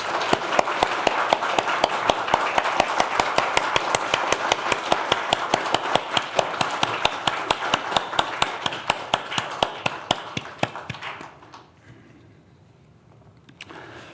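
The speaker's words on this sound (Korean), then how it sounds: "우리 모두가 한번 뜨겁게 감사와 축복의 박수를 한번 드리겠습니다" A church congregation gives warm, sustained applause at a retirement and honorary deaconess ceremony, dense steady clapping running loud for about eleven seconds before fading into quiet room tone.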